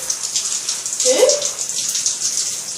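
Water splashes and sloshes steadily as a cat is bathed, with a brief rising cat-like cry partway through.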